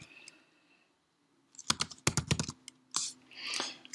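A username and password are typed on a computer keyboard, with a short burst of quick, close key clicks followed by a couple of isolated taps in an otherwise quiet room.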